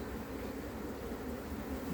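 Honey bees drone steadily at an open hive during a transfer into a new brood box, a dense continuous buzz with no pauses.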